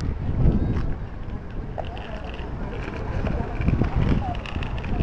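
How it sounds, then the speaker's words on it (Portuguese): Strong wind buffets the microphone outdoors at a park in continuous low rumbling gusts, loud throughout. "Tá um vento lascado."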